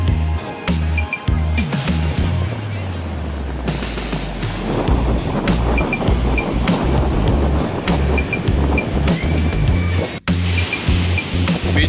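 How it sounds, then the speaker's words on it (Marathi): Sea waves surging onto Tondavli Beach in Sindhudurg, Konkan coast: a steady, loud wash of surf with buffeting wind noise and low rumbles, no speech. "वरती असल्यामुळे लाटा भरपूर येतात"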